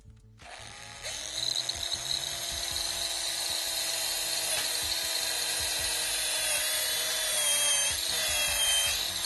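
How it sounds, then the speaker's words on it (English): A power drill fitted with a 3/16 inch bit whines steadily while boring into a 2003-2006 GMC Sierra grille. The high, continuous tone runs close and unbroken for several seconds. "now we're using a 3/16 inch drill bit. We're going to drill the Sharpie marks"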